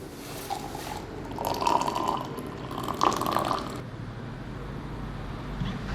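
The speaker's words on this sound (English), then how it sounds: "When the tea is ready to be served, an initial glass of hot water is poured to wash the leaves." Hot water poured over green tea leaves to rinse them before serving, a steady trickling pour that swells and fades a couple of times over a few seconds, quiet and close, with no voices.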